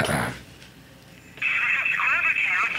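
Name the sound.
telephone call ringing after dialing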